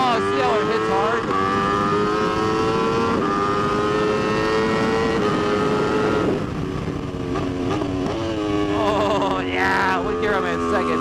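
Ducati V4S superbike engine on a race track, loud and continuous with rising revs through the gears and sharp shifts, a short dip near the middle before pulling hard again, with a rider speaking briefly over it.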